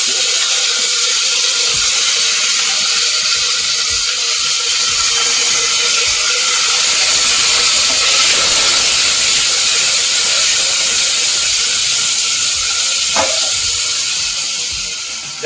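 A loud, steady sizzle and hiss of tomatoes hitting frying ginger and green chillies in a hot pan on low gas, continuous throughout without talk.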